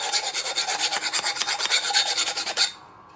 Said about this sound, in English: all I do for the burrs on the inside is just take a simple file